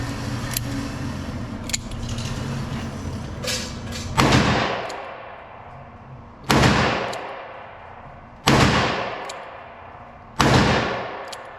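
A Ruger GP100 revolver fired one-handed and unsupported at a range: four sharp, loud shots about two seconds apart, each with a short decaying echo, over faint background noise.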